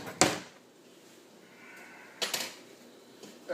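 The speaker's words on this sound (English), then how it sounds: "grab another fork out of the drawer" A kitchen drawer is pulled open and rummaged for a fork, giving a sharp clattering knock near the start, a quieter rustle, then a second rattling clunk of cutlery and wood, close by with no talking.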